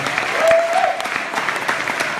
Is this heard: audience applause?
yes